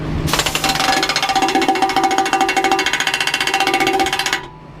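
A compressed-air impact tool tightens the bolts on a wood chipper's knives outdoors in bitter cold, hammering in a loud, rapid, continuous rattle for about four seconds before cutting off. No one speaks.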